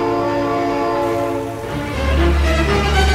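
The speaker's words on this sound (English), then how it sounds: "Oh my God, train!" A train blares a long, loud horn as it passes close by, the sustained tone holding over the rumble of the rail cars, which swells louder near the end.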